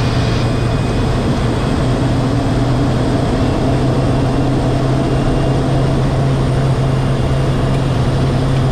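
A Cessna 208 Caravan turboprop drones steadily in flight while bush flying in Africa. The engine and propeller hum is loud and continuous, with no voices over it.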